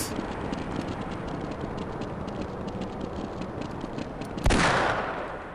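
Rapid gunfire from the Half-Life video game, cracking in a dense, continuous burst of shots over a noisy backdrop, with a louder blast near the end.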